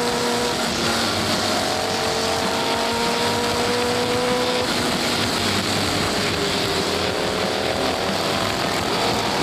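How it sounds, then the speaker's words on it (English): Racing motorcycles at the 1999 AHRMA Nationals in Park City, engines droning loud and steady with rising and falling pitch as bikes run the course, a continuous dense roar with no talk. "watching this great motorcycle action at Park City"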